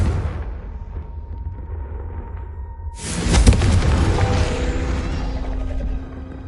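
A fiery Confringo spell explodes in Hogwarts Legacy with a sudden loud boom and crackling blast that rumbles on and slowly fades, following a quieter stretch of low ambient game sound.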